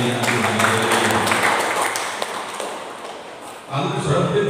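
A church congregation claps hands in a dense, fairly loud burst that fades away over a few seconds before a voice resumes speaking.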